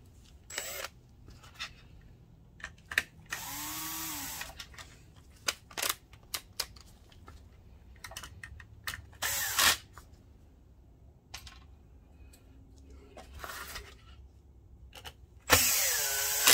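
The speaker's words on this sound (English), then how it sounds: "let's put some screws back in" A power screwdriver drives screws back into an Optoma HD26 DLP projector during a repair, with several short whirring bursts separated by quiet gaps and light clicks and handling noises close by.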